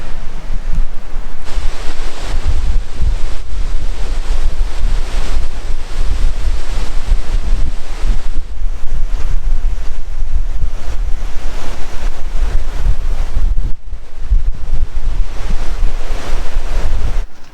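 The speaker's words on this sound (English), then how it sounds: "And it's so windy." Strong wind roars continuously through trees during a storm, with heavy gusting rushes and buffeting against the microphone, loud throughout.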